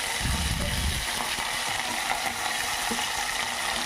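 Curry leaves fry in hot oil for tomato dal, giving a dense, constant sizzle that is close and loud and carries on without a break, with stirring clatter near the start.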